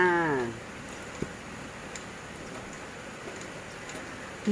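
Rain falls steadily outdoors in the countryside, an even broad patter close by, with a brief voice at the very start and a few faint ticks.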